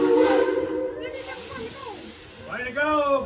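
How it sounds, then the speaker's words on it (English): A Tweetsie Railroad steam locomotive hisses, with a brief whistle-like tone at the start, while people talk nearby. "Casey Jones, let's get this train on back to town."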